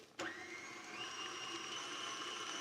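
An electric mixer beats four large eggs with granulated sugar. It starts abruptly and then runs as a steady, fairly loud whir that rises slightly in pitch, with no talking.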